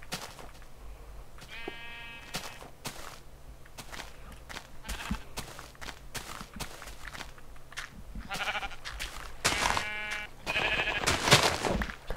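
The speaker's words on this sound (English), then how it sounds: "I hear the sheep." Sheep bleat several times amid scattered footsteps and clatter in Minecraft, the calls coming in short bursts over a steady low hum of game ambience.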